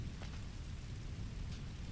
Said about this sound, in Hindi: अचानक से बारिश कैसे शुरू हो गई?